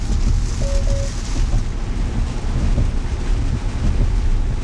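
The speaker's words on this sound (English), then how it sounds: "This is the heavy downpour I was kind of hoping to get." Heavy downpour drumming on a Tesla while driving, a dense, steady roar of rain with low rumble and road noise, loud and continuous with no talking.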